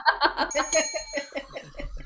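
A person imitates a door bell with a voice, ringing out several quick, rhythmic 'ling' syllables. Laughter from a live comedy audience runs underneath.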